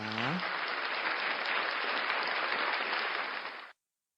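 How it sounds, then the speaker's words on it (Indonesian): Congregation at an Indonesian prayer service breaks into enthusiastic applause for God, a loud dense wash of clapping following a brief vocal tone at the start, then cutting off suddenly. "Sekali lagi berikan tepuk tangan yang paling meriah buat Tuhan kita"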